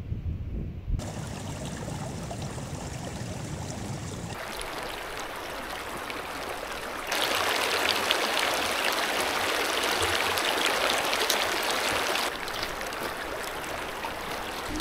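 Rushing water from a mountain waterfall beside a campsite on a rough high-altitude trail in western Sichuan, a steady broadband roar that swells louder in the middle section, with no voices.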